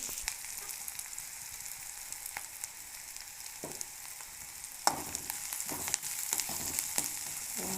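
Hot oil sizzles steadily as spices are tempered for a toor dal and horse gram bassaru, a close, even hiss with scattered crackles and a few sharper pops and clinks near the end.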